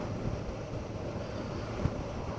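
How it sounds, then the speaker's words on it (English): Steady, loud wind buffeting on the microphone while riding a motorcycle across a windy bridge, a continuous low roar with no clear breaks and no talk. "Back over the windy bridge."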